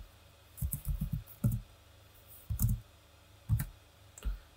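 Clicky keystrokes on a computer keyboard come in short irregular bursts, a few quick taps, then single presses with pauses, close and alone.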